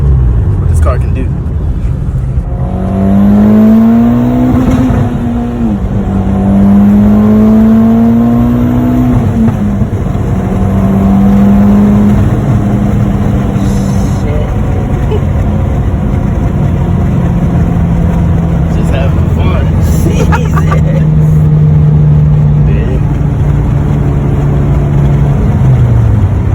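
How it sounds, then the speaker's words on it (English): A Mitsubishi Evo X accelerates hard through the gears from inside the cabin, the engine revving up in rising sweeps with brief dips at each shift, loud and continuous with a voice speaking over it. "let you guys see exactly what this car can do"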